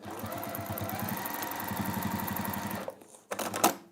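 A domestic sewing machine stitches rapidly in a steady mechanical chatter, running low on bobbin thread, then stops and gives a couple of short clicks and whirs.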